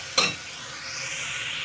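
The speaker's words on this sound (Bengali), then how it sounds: "ঝিঙেটা দিয়ে আমি আরেকটু খানিকক্ষণ কষে নেব।" Thick-cut ridge gourd pieces stir-fried in a pan: a sharp clatter as the ingredients hit the pan, then a steady bright sizzle that continues up close until it cuts off.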